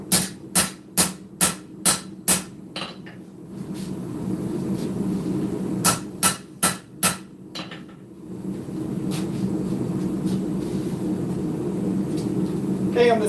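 Hot steel is hammered on an anvil while a short spear is hand forged, with sharp ringing blows in two quick, evenly paced bursts of about six strikes each, loud and close, between stretches of forge roar and low background noise.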